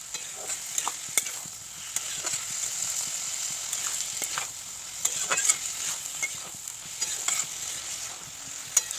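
Flat beans frying with tomato paste in a pan, a continuous close sizzle broken by frequent clicks and scrapes of stirring, moderately loud, with no talking.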